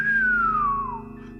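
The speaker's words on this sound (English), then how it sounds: "I actually gave a whistle of amazement" A single human whistle of amazement, a clear descending tone sliding downward over about a second, fairly loud and alone, over a faint steady background hum.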